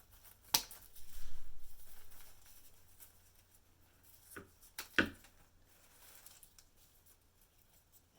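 Scissors snip leftover greenery stems for a flower crown, a few sharp isolated cuts spaced seconds apart amid soft rustling of leaves, close and quiet.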